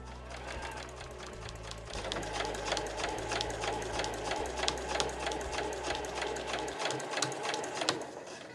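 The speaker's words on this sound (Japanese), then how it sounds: "止まったところでぐるっと周囲を1センチ縫います。" A sewing machine stitches a one-centimetre seam around a fur drop tote bag, running in a steady, close, continuous mechanical whir with a shift in pace partway through and stopping near the end, with no talk.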